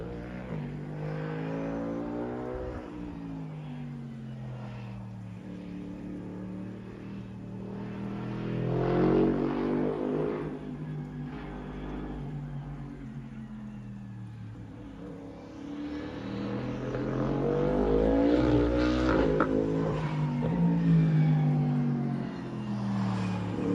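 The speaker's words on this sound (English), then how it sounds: "twin turbo V8" Lexus LFA successor's twin-turbo V8 revving: a close, loud engine note that climbs and falls through repeated rev sweeps, two strong surges rising in pitch and then easing off, with no voices over it.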